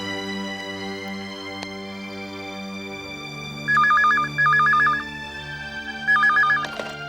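A telephone rings in a Tamil TV serial household scene, two or three loud repeated double-burst electronic rings standing alone over quiet background music, with no talk.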